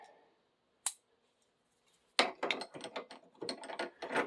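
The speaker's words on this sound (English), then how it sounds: "I can clamp it here in the vise" A vise is wound tight to clamp a short stubby pipe, giving a rapid run of close ratcheting, clicking metal sounds after a single earlier click and quiet pause.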